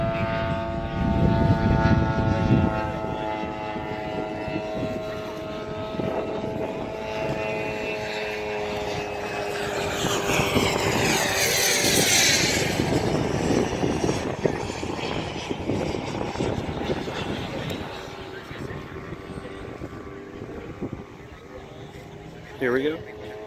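A propeller airplane's engine drones steadily while taxiing, loud and close with a whining tone that swells midway, as someone talks over the noise throughout.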